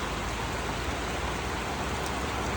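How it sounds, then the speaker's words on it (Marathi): Steady, dense downpour of heavy rain, a constant broadband hiss with no breaks or voices. "फुल पाऊस पडतो फुल पाऊस"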